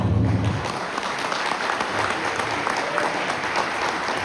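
An audience claps steadily through a Telugu association's Ugadi celebration, a dense, even wash of applause close by and alone, with no voices standing out.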